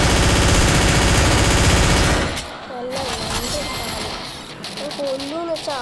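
Automatic gunfire from the Free Fire battle-royale mobile game, a loud sustained burst for about two seconds that then breaks off into quieter game sounds and scattered noises.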